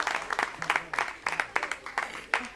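Audience at a small live bistro show on 14 July applauding a singer, a loose patter of hand claps in uneven bursts throughout, fairly close and moderately loud.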